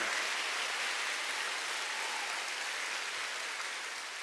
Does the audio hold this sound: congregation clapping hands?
yes